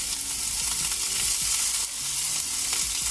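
Bacon frying in oil in a pan, a steady close hiss and crackle with small pops throughout and no talk.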